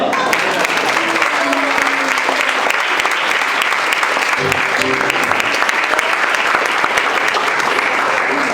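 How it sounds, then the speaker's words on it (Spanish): A church congregation applauds during an evangelistic service, loud sustained clapping from many hands throughout, with faint voices and a sung tone briefly audible beneath. "Aplauda al Señor."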